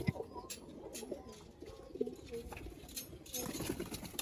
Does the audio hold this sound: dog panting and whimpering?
no